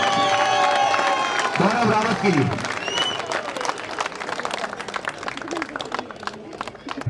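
A crowd applauds loudly at a prize ceremony for the Pauri Football Cup in Uttarakhand, with steady clapping that fades gradually while an announcer speaks over a PA.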